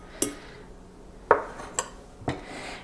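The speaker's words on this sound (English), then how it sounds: "I'm just going to put some into a nice serving dish" Green pea stew is scooped into a serving dish, leaving four sharp clinks of a utensil against the dish with quiet pauses between them and no voices.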